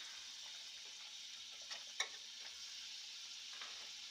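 Butter sizzles and fries in a pan after deglazing during filet mignon cooking, a steady soft hiss with a few faint clicks and one brief scrape of a utensil near the middle, and no talk.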